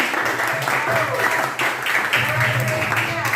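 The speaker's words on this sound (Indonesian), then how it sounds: "berikan aplaus atau tepuk tangan" A classroom of students claps after a discussion on flora and fauna, giving a short burst of applause with bursty rhythm and voices mixed in.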